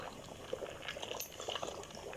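A pot of saag simmers on the stove, giving soft, quiet bubbling with small pops and liquid sounds scattered throughout, faint and close, with no talk.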